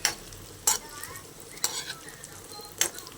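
Pieces of egg junnu frying gently in oil on a low flame, a quiet sizzle under four distinct utensil scrapes and clinks against the pan at irregular intervals.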